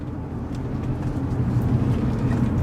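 An Infiniti G35 / Nissan 350Z with a manual gearbox shifts into third gear, heard from inside as a low, steady engine drone that swells slightly over a few seconds, with no talking.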